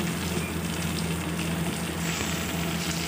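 Chopped tomato drops into a pan of golden fried onions, giving a steady, close sizzle and frying hiss that runs without a break, with no talk.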